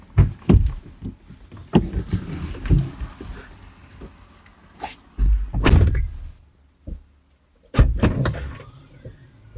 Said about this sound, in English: I'll just unlock the boot